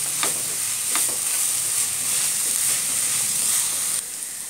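Chopped tomato and green chili hit a hot pan of ginger-garlic paste for a clam meat roast, giving a steady, close, loud sizzle with a few stirring scrapes and no talk.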